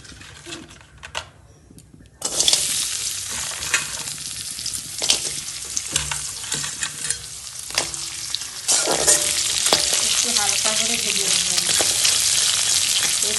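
Crabs frying lightly in hot oil for a sour crab dish give a loud, steady sizzle that begins abruptly and grows denser partway through, with clinks of stirring over it.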